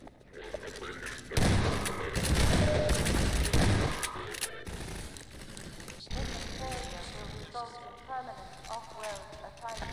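Shotgun blasts in Half-Life 2, loud heavy booms clustered in the first few seconds amid chaotic combat noise, followed by quieter scattered gunfire and mechanical clatter, with a person talking over the action.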